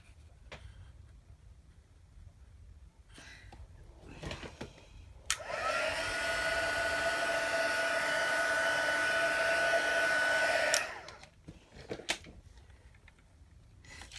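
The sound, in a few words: heat tool blowing hot air on card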